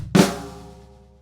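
A drum kit pickup bar from a rock song, with a shuffled bass drum and a flammed snare, sounds as one loud struck hit that rings and decays over about a second, alone.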